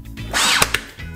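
A Ryobi One+ 18 gauge cordless brad nailer cycles and fires, a brief loud mechanical whir followed by two sharp clacks close up, with no voices.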